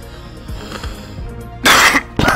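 A person coughs close to the microphone, one loud harsh burst and then a shorter second one, over faint Minecraft game sounds.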